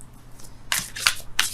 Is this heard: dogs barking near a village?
no